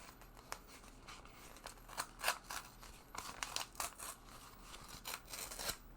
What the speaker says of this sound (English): I'm gonna do one better than the scissors this time. My trusty X-Acto knife.